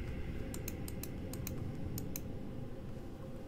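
A phone text message being typed in the video game Fears of Fathom, a short run of light, evenly spaced tapping clicks over a steady low hum, with no talking.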